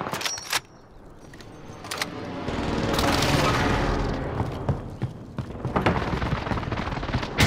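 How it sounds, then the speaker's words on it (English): A precision airstrike lands in a Call of Duty match, a rising wash of rumbling explosions building to a loud sustained roar, with scattered gunfire cracks and metallic clatter before and after. "Allied precision airstrike incoming."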